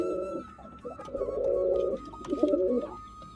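Pigeons coo inside a loft, with several soft, throaty coos rising and falling close by in uneven bursts and a faint chirp or two, and no one speaking.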